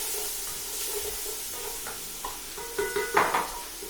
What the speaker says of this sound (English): So in with our onions.